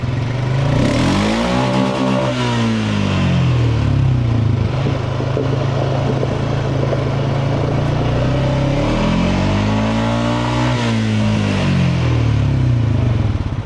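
An ATV four-wheeler engine revs up loudly as the machine is put in gear and takes off, with two distinct rising-and-falling revving surges over a steady close engine drone.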